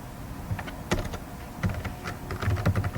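Irregular bursts of computer keyboard keystrokes as a code comment is typed, close and clear, with short pauses between clusters of taps.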